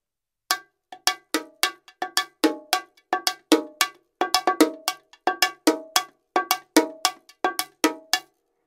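Bongos struck with a Root 404 brush made of wooden dowels, giving a steady run of sharp, bright, rattly hits in quick irregular patterns, close and alone.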